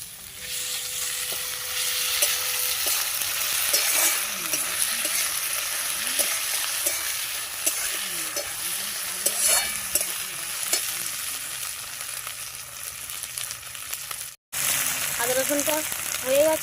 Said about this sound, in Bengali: আদা রসুন বাটাটা দিয়ে দেবো ভালোভাবে নাড়িয়ে দিতে হবে